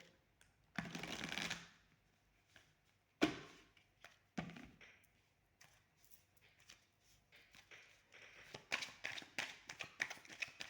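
Tarot cards are shuffled in a loud rushing burst, then drawn and laid down one at a time with soft taps and flicks, ending in a quick run of riffling clicks, close by with no talk.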